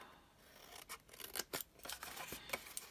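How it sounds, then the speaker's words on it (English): Scissors snipping small cardstock pieces off a papercraft candle gift box, a handful of quick, quiet close snips spaced irregularly, with no talk. "You're going to snip those off."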